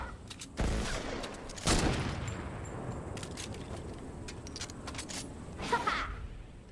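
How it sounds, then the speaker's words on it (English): A cannon fires in the video game Fortnite, with a few heavy booming blasts rising out of a steady rumble of in-game noise and scattered clicks. "No, it's just a cannon."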